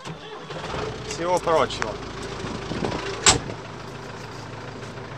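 An MTZ 82.1 tractor engine running steadily while weeding corn, a constant low drone under someone talking, with a few brief knocks and clatters.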